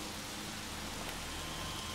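Steady rain falls in the video game The Evil Within, a dense, even hiss of drops with no pauses and no voices.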